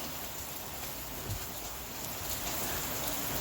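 Steady rain falls outdoors, a dense, even hiss of drops on surfaces, moderately quiet and continuous with no voices.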